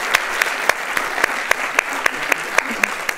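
An audience claps after a fireside chat with an air marshal and a professor, a busy patter of hands with a few sharp, evenly spaced claps standing out near the listener.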